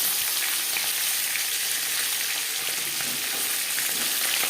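Pieces of kalbaush freshwater fish fry in a little oil, producing a loud, even, continuous hiss of sizzling that stays close and unbroken throughout.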